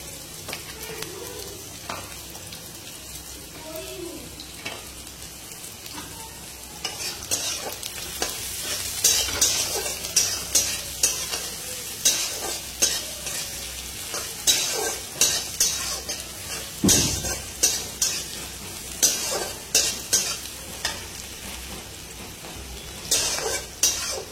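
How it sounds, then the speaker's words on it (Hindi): Onions frying in oil while cooking a fish curry, a soft continuous sizzle punctuated by repeated scraping stirs and clinks of a utensil against the pan, growing busier toward the end, close and without talk. "ऑयल रे पियाज भी ऐड कर ले।"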